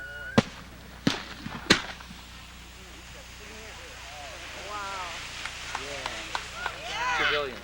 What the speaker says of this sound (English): Those are turbillions, ain't they?